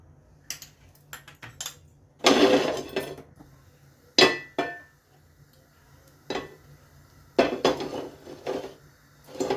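A spoon and a pan for shallow-frying kebabs clink and clatter in scattered bursts, with sharp metallic knocks between quiet pauses.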